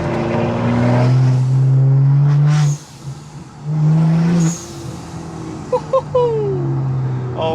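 BMW N55 engine exhaust heard from inside the cabin while driving, loud droning revs that climb through gears with brief lifts and shifts, a few pops near the end.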